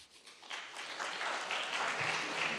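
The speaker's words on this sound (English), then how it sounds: "Delegates, we ask that you please contain your applause until all 5 speakers have addressed this assembly." Delegates at a model United Nations opening ceremony applaud, a broad wash of clapping that swells after a quiet start and holds steady and fairly loud to the end.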